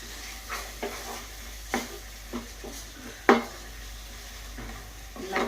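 Scrambled eggs stirred in a hot pan, a spatula scraping and tapping the metal in irregular strokes over a steady, close sizzle.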